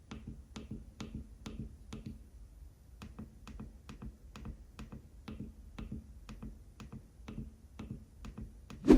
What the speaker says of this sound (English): I will play you a little sound test of how they sound